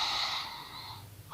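A person takes a deep, slow breath in, a soft airy inhalation with a sniffing quality, close and alone in a quiet room.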